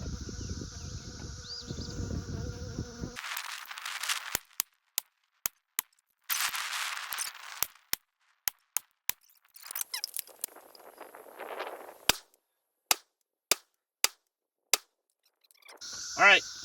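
Rifle shots from a Delton Sierra 316L AR-style rifle firing PMC ammunition outdoors: a string of sharp, loud, evenly spaced cracks, about a dozen, separated by quiet gaps and some background noise.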